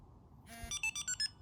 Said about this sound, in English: your arm and disarm beeps through the remote are switched back on again